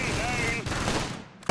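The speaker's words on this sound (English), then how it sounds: "let's see if we can just fire on these guys right now from there" Soldiers' gunfire in the Close Combat war game, a dense burst of rapid shots under a voice, then a brief pause and a sharp final crack.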